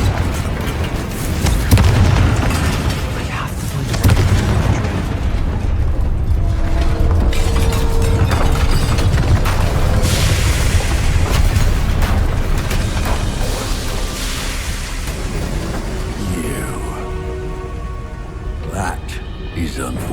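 Fiery spell explosions booming through a Hogwarts Legacy battle, loud and continuous with layered blasts, crackles and shattering debris under game music, and character voices speaking over the fight.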